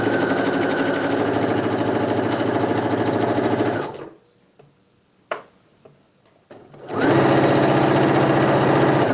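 A sewing machine runs a straight stitch along a pant hem, loud and close in two long steady runs separated by a pause with a few faint clicks.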